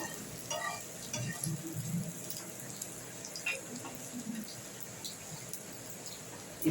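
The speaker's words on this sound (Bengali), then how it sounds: "এটা ডিপ ফ্রাইয়ের নয়, শ্যালো ফ্রাই করলামই।" Chicken shallow frying in a pan for a chicken stir fry, a soft, steady sizzle with occasional stirring and scraping noises, moderately close and fairly quiet, with no talk over it.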